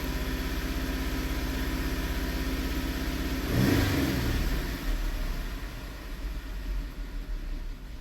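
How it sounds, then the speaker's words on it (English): A 2017 Dodge Durango 3.6 V6 with an intermittent cylinder 2 misfire idles steadily up close, then a sharp throttle snap sends it revving up before it falls back toward idle. "I'm gonna snap throttle."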